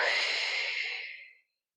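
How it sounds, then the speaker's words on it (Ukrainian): A single deep, breathy exhale, fairly close and soft, that trails off into silence during a calming anti-anxiety breathing exercise. "І вдих, і видих. І ще раз вдих і видих."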